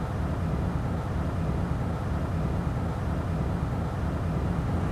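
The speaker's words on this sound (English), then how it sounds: "This is an actual test of ash being injected into an operating engine." An operating jet engine runs on a test stand while volcanic ash is injected into it, giving a loud, dense and unbroken roar that stays steady throughout.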